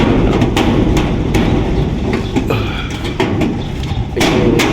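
Hammer blows knock a ceiling board into place during quick ceiling installation, a series of sharp thuds spaced irregularly over a steady, loud background rumble.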